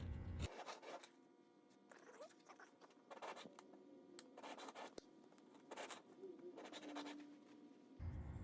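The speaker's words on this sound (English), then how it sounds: "Just keep filing until that line disappears." A hand file is drawn across an aluminum edge, giving quiet, rasping scrapes that come in several separate strokes with short pauses between them.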